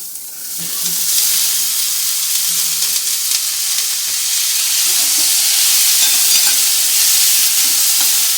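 Turmeric sautés in a pan with a loud, steady, close hiss of frying that runs the whole time, with faint stirring underneath and no voices.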